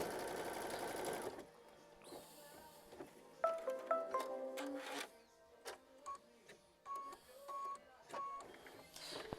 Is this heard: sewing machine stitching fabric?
yes